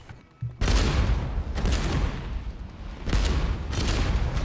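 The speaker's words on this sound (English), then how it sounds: "Let me see what cannon fires faster." Heavy booming ship cannon fire in the naval game Age of Water, dense and continuous with repeated blasts rumbling over each other, loud and close.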